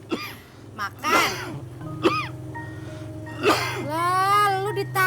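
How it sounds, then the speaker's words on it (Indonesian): A person gives several short, throaty coughs a second or so apart, close to the microphone, with people talking around them. "Lah, lu ditanya malah batuk."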